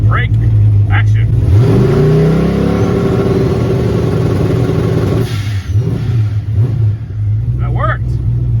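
A turbocharged car on a stand with its rear wheels raised and spinning free, engine rising from idle into a long loud rev, holding high, then dropping back to idle, with a shorter blip near the end; a voice speaks over it.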